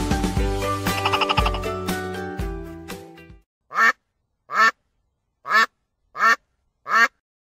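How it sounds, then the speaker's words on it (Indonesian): A tokay gecko gives five loud, evenly spaced croaking calls, each a short harsh burst, following a few seconds of music. "Tokek."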